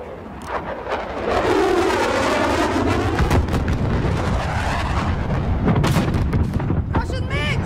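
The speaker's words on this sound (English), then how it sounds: "They are going crazy with those mortars." Mortar barrage in Call of Duty Modern Warfare, a dense, loud, sustained roar of explosions and artillery blasts rumbling continuously through the battle, with shouted voices from game characters woven into the din.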